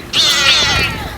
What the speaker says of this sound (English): It's an orange cat.